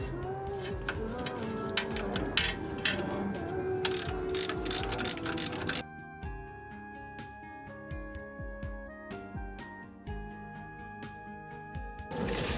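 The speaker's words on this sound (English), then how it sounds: "get the bolt out on the other using a wrench on one side and a ratchet on the other." Ratchet and wrench working coilover bolts loose on a Mazda RX-7 FC, with rapid clicking pawl bursts and metallic ticks, close and fairly quiet, a busier stretch followed by sparser clicks.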